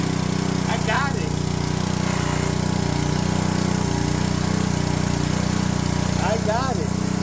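A Honda Homelite power washer's petrol engine runs steadily at a constant idle throughout, loud and close, with brief voices speaking over it.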